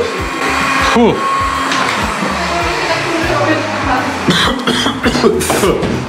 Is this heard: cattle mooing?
no